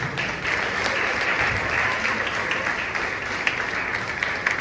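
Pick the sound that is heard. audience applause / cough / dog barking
audience applause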